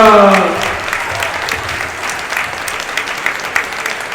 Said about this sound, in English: Let's give our dancers one more big round of applause as they walk out.